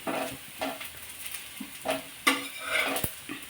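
Roti cooking on a hot pan gives a soft crackling sizzle with scattered scrapes and light stirring taps, moderately close and without talk.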